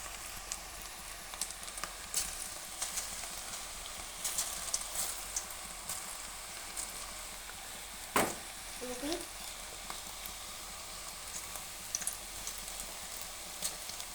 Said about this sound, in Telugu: మీడియం ఫ్లేమ్లో పెట్టుకుని గోల్డెన్ బ్రౌన్ కలర్ వచ్చే వరకు ఫ్రై చేసుకోవాలి